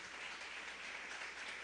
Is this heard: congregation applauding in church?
yes